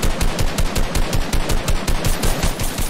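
Rapid automatic gunfire from a first-person shooter video game, loud and continuous with steady rhythmic bursts throughout, no talking.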